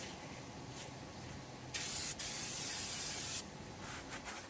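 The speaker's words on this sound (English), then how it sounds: "You want to clean your rotors to get that grease off of it." Brake cleaner sprayed onto the brake rotors of a G-body Oldsmobile Cutlass to strip grease, two close hissing bursts over quiet garage background, with a short break between them.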